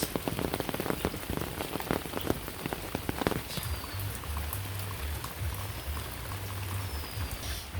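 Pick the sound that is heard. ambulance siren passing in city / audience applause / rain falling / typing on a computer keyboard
rain falling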